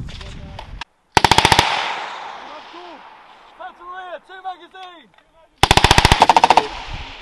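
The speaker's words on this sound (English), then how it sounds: "make sure those shots are aimed" Rifle gunfire during a simulated assault exercise by military academy cadets: two loud rapid bursts of repeated shots open and close, with shouted commands and whistling or calls from soldiers heard between them.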